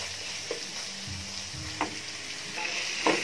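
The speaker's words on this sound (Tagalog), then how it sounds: "Nasangkot sa na natin yung chicken, saka yung balon-balunan." Chicken pieces and gizzards sauté in a hot oiled pan for Filipino arroz caldo, a steady low sizzle and fry with a few soft stirring scrapes and clinks, no voices.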